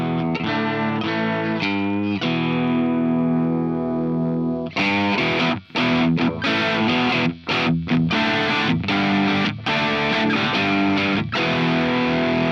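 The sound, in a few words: electric guitar bridge pickup, left-handed Telecaster pickup, Marshall amp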